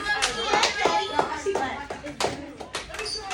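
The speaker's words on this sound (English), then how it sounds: "All right, clap it up." Several hand claps ring out in an irregular burst, close by and fairly loud, with a bit of background chatter mixed in.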